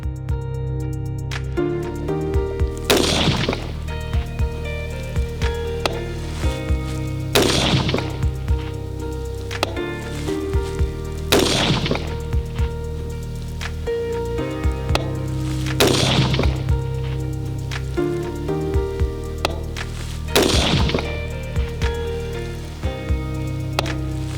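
Five sharp carbine rifle shots at a 300-metre target, fired with MBUS third-generation mechanical sights, ring out evenly spaced about four seconds apart over a steady low background hum.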